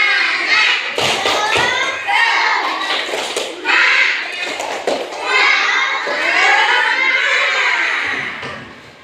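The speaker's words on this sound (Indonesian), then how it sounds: "tepuk semangat dulu ayo. Tepuk semangat" Schoolchildren in a classroom shout a rhythmic spirit chant with sharp thumping claps, loud and close, their voices rising and falling in energetic bursts throughout.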